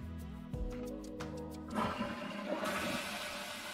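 A solid gold toilet flushes in Minecraft: a few short tonal blips, then a loud, rushing surge of water that rolls on to the end.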